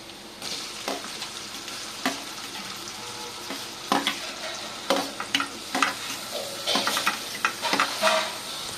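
Tomatoes and onions fry in oil in a pan for Punjabi tadka Maggi, a steady low sizzle broken by scraping stir strokes and soft clinks of the spoon against the pan.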